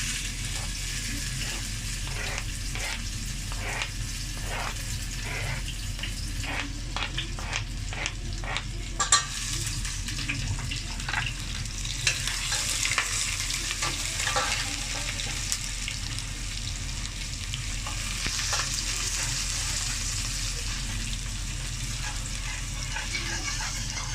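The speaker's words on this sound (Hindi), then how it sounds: "4 टेबल स्पून ऑयल में मैंने ये 1 टेबल स्पून अदरक और जो लहसुन मैंने चॉप किया है वो डाल रही हूँ।" Chopped ginger and garlic sizzle in about four tablespoons of hot oil for a mutton achar gosht, with a steady close frying hiss and repeated ticking stirs and scrapes of a spoon against the pan.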